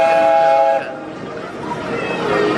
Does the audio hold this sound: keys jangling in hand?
no